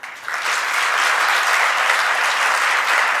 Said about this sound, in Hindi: इस बात में अच्छी तालियां एक साथ बजाई जा सकती हैं।